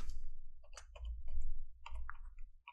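Sharp computer mouse clicks in short scattered bursts, close and dry, over a low steady hum while apps and Microsoft Photos are opened on a Windows PC.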